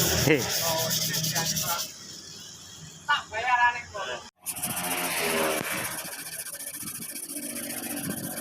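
Rough scraping strokes of hand sanding on a Honda Beat motorcycle body panel before painting, with a brief pause and someone talking over the rubbing.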